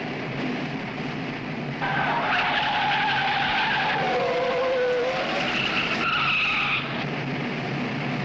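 Race car braking hard into a curve at Interlagos, a sustained wavering tire squeal with shifting pitch over a loud engine roar, continuous and fairly close.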